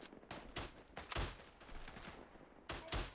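Rifle shots from the World War I shooter Isonzo in a snowy setting: several sharp, loud cracks spaced irregularly, near and distant, over a low battlefield rumble with no talking.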